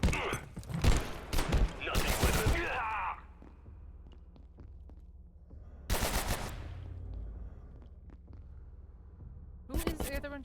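Rapid bursts of automatic gunfire in the video game Abiotic Factor, with loud clustered volleys near the start, another burst in the middle and one at the end, and quieter game ambience between them.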